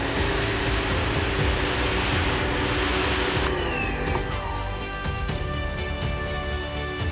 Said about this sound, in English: And here's what this is the 0 degree nozzle looks like.